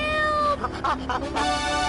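A cat meows in a video game commercial, two or three close, insistent meows over a steady musical background.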